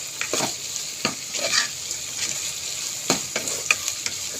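Onion, garlic, green chillies, curry leaves and mustard seeds sauté in hot oil for a fish curry. The crackling sizzle is close and steady, broken by frequent spoon-stirring scrapes.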